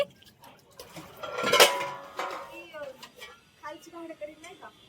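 Pots and dishes clatter in a home kitchen, with one loud metallic crash near the middle amid scattered clinks, while people talk over it.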